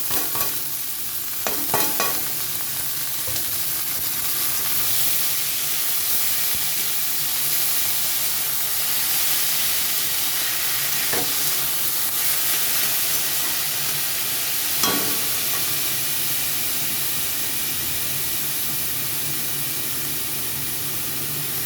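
Boiled banana stem fries in a hot pan and is stirred, giving a continuous close hiss and sizzle punctuated by a few sharp scraping stirs, with no voices.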